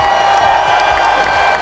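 Applause and cheering from a school celebration assembly fill the whole stretch as a dense, steady wash of clapping with a few whoops, loud and close, with no talking.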